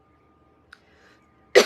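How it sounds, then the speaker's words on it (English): A single sharp cough bursts out near the end, loud and close, after a faint small throat noise and otherwise near silence. "Instead of me coughing and hacking"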